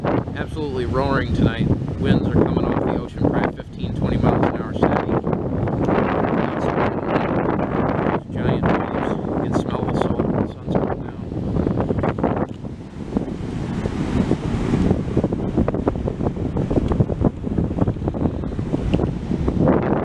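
Steady ocean wind of around 15-20 mph gusting loudly across the eastern North Carolina coast, with surf mixed into the rumble and a brief voice early on under the continuous roar.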